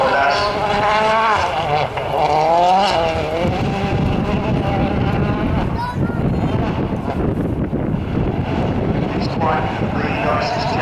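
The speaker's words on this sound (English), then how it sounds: "We can hear NASA coming towards us in the Citroen" A Citroen rally car on a WRC Wales Rally GB power stage at Walters Arena, its engine note rising and swelling as it approaches, loud throughout with crowd and commentator voices talking over it.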